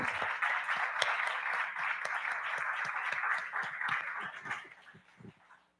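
A church congregation at a doctrine service applauds in a dense, steady wash of many hands, fairly close and full, then thins out and fades near the end.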